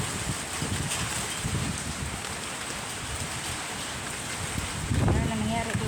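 Typhoon rain and wind in Taiwan, heard from a doorway as a dense, constant hiss of pouring rain with gusty rushing noise, loud and close, and a voice briefly speaking near the end.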